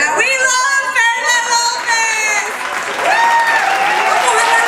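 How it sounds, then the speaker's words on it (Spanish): Steady applause from the audience at the Golden Latin Awards 2016, sustained clapping under an excited voice speaking over it throughout. "¡Vamos a darle un aplauso todos de pie, señor!"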